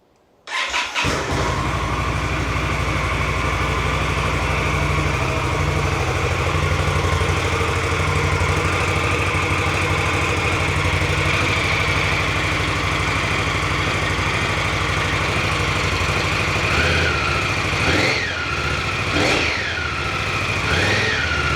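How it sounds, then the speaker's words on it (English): An Indian Scout Bobber motorcycle on its stock exhaust fires up and settles into a loud, steady idle nearby, with a few quick throttle blips near the end and no voices. "I wanted to record the current exhaust and what that sounds like."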